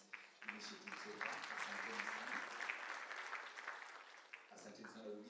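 Conference audience breaking into steady applause, a dense patter of clapping hands that swells, holds, then thins near the end, with a voice briefly audible at the start and close.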